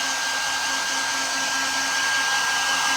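A hair dryer blows steadily on a fresh coat of paint on a Dollar Tree gift bag, its even whooshing roar continuing unbroken from start to finish with a faint motor whine and no talking.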